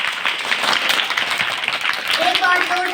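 An audience applauds a child's speech at a school Gandhi Jayanti and Shastri Jayanti celebration, busy steady clapping, with a voice starting to speak over it near the end.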